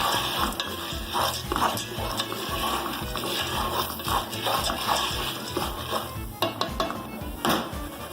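Popcorn is stirred in a pot: steady scraping and rattling over sizzling, with a few sharp pops near the end.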